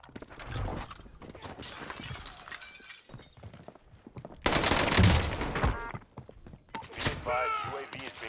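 Gunfire and shattering impacts in Call of Duty Warzone, including an STG 44 rifle, come in loud, dense bursts. Game voice callouts are mixed in among them.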